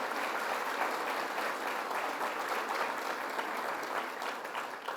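A crowd applauding Russ Quarantello at Governor Cuomo's Niagara Falls downtown revitalization announcement, sustained many-handed clapping at steady moderate volume, tapering slightly at the end, with no talk.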